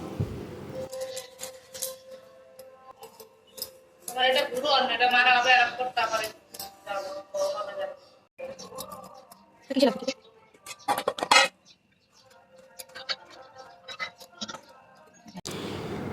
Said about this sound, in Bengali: ঝিঙেগুলোকে ছোটো ছোটো করে কেটে নিচ্ছি